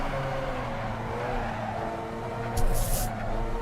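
Race car in a video game sliding through a drift, steady engine drone with harmonic whine, then a brief burst of tyre squeal near the end, loud and close with no talk.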